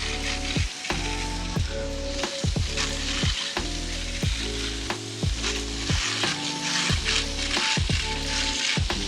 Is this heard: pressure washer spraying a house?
yes